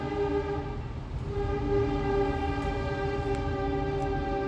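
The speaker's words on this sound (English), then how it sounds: "Why is that train coming?" A train passing with a loud, sustained horn tone over a rolling rail rumble, continuous and fairly close throughout.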